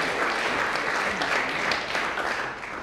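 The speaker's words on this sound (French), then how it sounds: "On peut vous applaudir aussi." Applause from a conference audience after a presentation at a professional meeting on 3D tools and knowledge transmission, steady dense clapping filling the room, fading slightly at the end.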